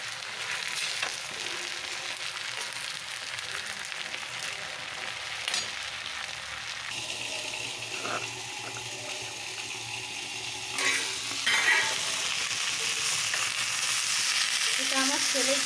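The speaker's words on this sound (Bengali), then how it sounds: "দেখো এখন আমি কাঁচকলা আর আলু ভেজে নিচ্ছি।" Green plantain and potato pieces frying in foaming oil, a continuous close sizzle with occasional stirring and a brief watery clatter partway through, no talk.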